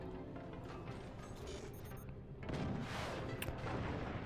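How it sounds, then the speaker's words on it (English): Cannons fire in the artillery strategy game Forts, with dense booming blasts and impacts against a base, growing heavier and louder partway through, with no talk. "Cannon shots coming in here, applying some damage to bottom base."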